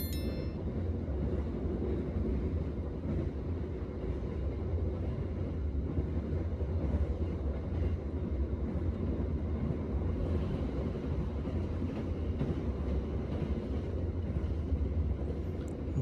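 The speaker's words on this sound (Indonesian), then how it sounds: "Barusan itu berpapasan dengan kereta api Kuto Jaya Selatan yang reguler ya." Kutojaya Selatan regular passenger train passing on the line near Kutoarjo, heard from aboard another train: a continuous, loud low rumble and rushing roar that holds steady for the whole stretch, with no talking.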